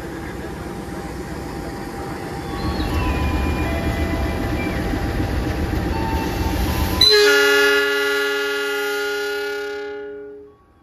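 Malabar passenger train passing close at Tasikmalaya station, a loud steady rumble of wheels and carriages that swells, then gives way to a long sustained horn blast that fades out at the end.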